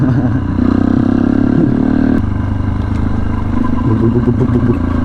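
A Honda CB500X motorcycle engine hums steadily at close range, rising slightly in pitch midway as it rides along, with a constant low rumble throughout.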